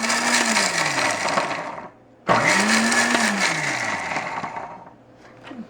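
A mixer grinder pulses twice to grind coconut for aappam, each burst a loud whirring roar that spins up, falls off and stops, separated by a brief pause.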